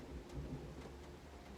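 Steady rain falls during a storm while low thunder rumbles beneath it, a dense, even wash of sound with no voices.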